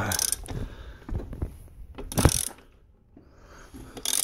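A ratchet works loose the rear axle nut on a dirt bike wheel, giving bursts of quick clicking close up with brief pauses between the turns.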